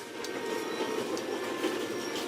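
A steady, continuous rumble of a train running in The Raven: Legacy of a Master Thief, an even rolling drone throughout with faint rhythmic clacks, no voices over it.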